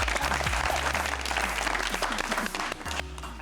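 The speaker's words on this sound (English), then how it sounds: "Another round of applause for that, right?" Steady audience applause fills the whole stretch, a dense crowd of clapping at moderate distance with no pauses.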